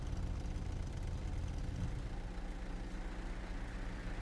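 A vehicle engine idles with a steady, low mid-pitched rumble, held at an even level throughout with no voices over it.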